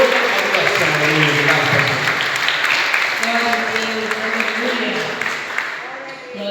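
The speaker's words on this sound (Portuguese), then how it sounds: "Dê uma salva de palmas ao Senhor Jesus." A church congregation applauding for Jesus during a service, steady full clapping heard throughout with voices speaking and calling out over it.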